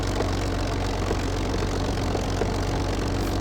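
Steady airplane engine drone from the Infinite Flight flight simulator game, a continuous even hum with low rumble and broad hiss, unchanging and without voices.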